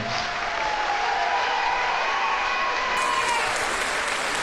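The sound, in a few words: audience applause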